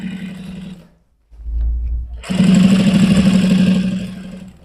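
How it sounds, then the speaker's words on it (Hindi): Sewing machine stitching a gents' kameez collar through thick, layered fabric, a steady close mechanical whir that stops briefly, restarts with a low thump, then runs on louder and harder with no talk. "आप शायद वीडियो में सुन सकते हैं कि यहाँ पे मशीन की आवाज़ भी चेंज हो जाती है"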